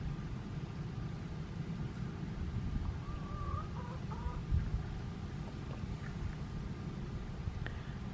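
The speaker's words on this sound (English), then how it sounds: "You little bitty chickens." Soft chirps and clucks from young chickens on a homestead rise faintly over a steady low rumble of outdoor background noise.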